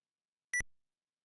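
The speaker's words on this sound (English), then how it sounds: "Weird little beep. I think that's the console beeps on the left" A single short electronic beep from an Odyssey² console emulated on a MiSTer FPGA, a clean tonal blip that decays quickly, sounding alone in otherwise silent surroundings.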